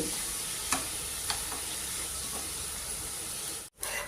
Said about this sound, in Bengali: আলু পটল ভাজি করতেছি, আর এই যে করলা রান্না করতেছি আলু দিয়ে